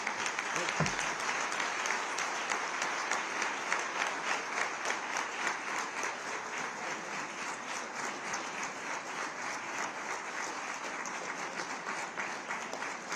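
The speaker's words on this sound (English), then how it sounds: "that speech definitely deserves a bigger round of applause" An audience at a community event in a Swaminarayan temple applauds after a speech, steady dense clapping from a large crowd with a soft rhythmic pulse, a single thump near the start.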